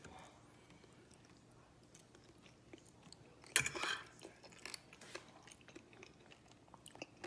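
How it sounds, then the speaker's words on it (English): A crunchy bite into hash brown casserole, one sharp close crackle, then quieter chewing and smaller crunches against a quiet room. "Did you hear that crunch?"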